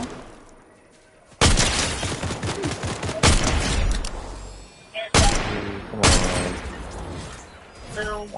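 Bursts of gunfire in the Fortnite battle royale game: several loud, sharp volleys at irregular gaps, each trailing off in a ringing decay, with quieter gameplay noise between them.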